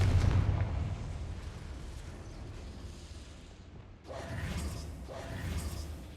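A Confringo blasting spell fired in Hogwarts Legacy, heard as a low booming rumble that fades, then two sharper fiery bursts near the end.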